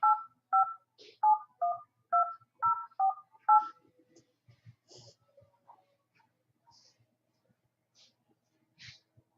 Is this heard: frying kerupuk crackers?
no